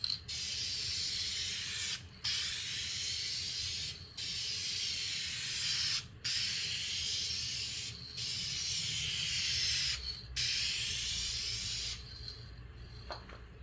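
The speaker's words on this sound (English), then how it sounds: "checking my spray pattern, make sure I'm not spattering at all" A rattle-can spray on an MGB car body panel hisses in steady bursts of about two seconds each, separated by short pauses, close and loud, with no talking.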